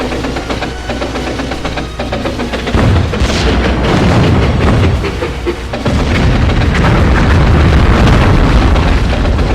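Heavy booming missile explosions in the PS2 game Swashbucklers, loud and close, hitting in rolling waves over a constant low rumble.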